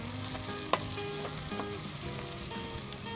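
Ginger, garlic and onion fry in a pan with a steady, moderately quiet sizzle, broken by occasional stirring clinks and scrapes.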